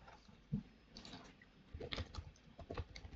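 Someone typing a command on a computer keyboard, quiet irregular clicks of individual keys in short bursts, close but faint.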